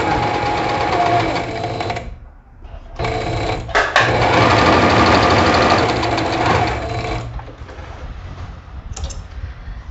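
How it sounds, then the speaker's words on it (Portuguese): A domestic sewing machine stitches the facing around a garment neckline, a loud close whirring run that stops briefly, then resumes in a long steady stretch before fading into quieter handling. "Abaixo a sapatilha, começo a costurar, dou meu retrocesso e venho, ó, costurando"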